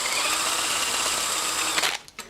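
A cordless drill on a 14-volt battery with an 8mm socket drives a Tractel Derope rescue device, giving a steady high-pitched motor whine that runs close and loud, then cuts off with a couple of brief clicks.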